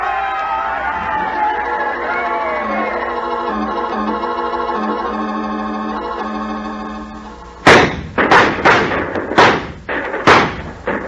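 Cannon and gunfire in a battle charge from a 1941 film: after a stretch of orchestral music, a rapid series of loud, sharp blasts and shots bursts in, close and overlapping.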